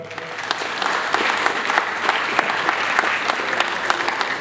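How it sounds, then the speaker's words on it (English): An audience at a Makerere University event in Uganda applauds the chief guest, politician Norbert Mao, with sustained, even clapping and sharp individual claps popping out of the wash throughout, with no talking. "Let's give our chief guest a bigger clap."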